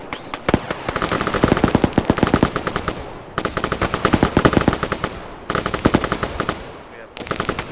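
Sustained machine gun suppressive fire in a video game mod: rapid bursts of close, loud automatic shots in several long strings separated by short pauses.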